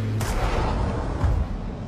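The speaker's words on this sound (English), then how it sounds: "I hear gunshots, watch out." Booming video game gunfire with a couple of heavy, echoing blasts over a constant rumbling background, sounding somewhat distant and processed.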